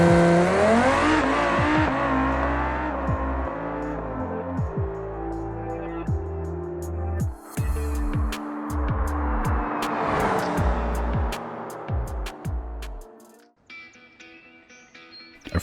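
A Civetta Scintilla drag car with a twin-turbo V10 launches hard in a racing game, its engine screaming up through several rapid gear shifts before a sudden cut and a quieter idle at the end.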